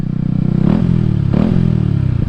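A Yamaha MT 125 fitted with an Akrapovic exhaust, close and loud, idling with a throaty burble and blipped twice in quick succession, each rev rising sharply and dropping back.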